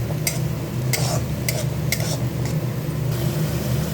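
Ground spice paste frying in a kadai with a steady sizzle, while sharp metallic scrapes and clinks from the stirring spoon come at intervals over the hiss.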